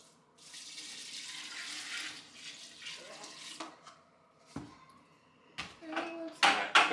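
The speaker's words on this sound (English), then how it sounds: "we're gonna add a bunch of water to it." Water runs from a tap into a container of drywall topping compound, a steady splashing pour that stops and starts, followed by sharper knocks and handling sounds close by.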